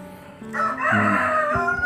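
A rooster crows once, loud and close, a long drawn-out call rising and holding before trailing off at the end.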